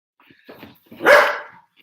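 A puppy lets out a few short barks close by, with a couple of small yips leading into one louder bark, then quiet.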